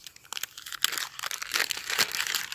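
Close crinkling and rustling of stiff wax paper being unfolded from around a slip-joint pocket knife, a steady stream of small crackles with a few louder crunches, no voices.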